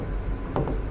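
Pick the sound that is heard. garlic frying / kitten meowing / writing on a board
writing on a board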